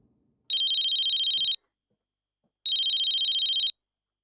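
An office telephone rings twice in electronic trilling bursts about a second long, separated by a pause, clear against near silence.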